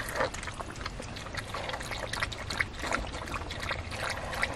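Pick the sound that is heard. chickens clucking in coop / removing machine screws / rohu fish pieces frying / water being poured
water being poured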